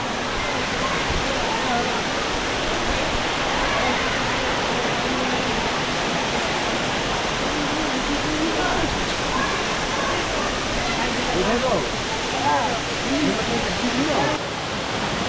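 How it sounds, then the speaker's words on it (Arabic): A waterfall in the High Atlas mountains near Imlil roars as a dense, steady rush of falling water, close and loud throughout, with voices faintly mixed into the constant wash. "شلال تبارك الله"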